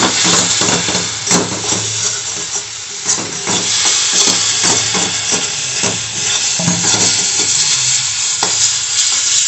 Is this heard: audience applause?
no